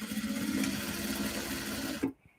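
A sewing machine stitches heavy canvas for a big bag, running steadily at close range for about two seconds before stopping abruptly, leaving near silence.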